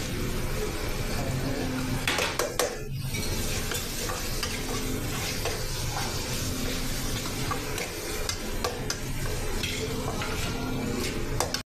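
Food frying in a pan with ginger and garlic, stirred with a spatula: continuous loud sizzling with repeated scraping and clinking strokes against the pan, no talk.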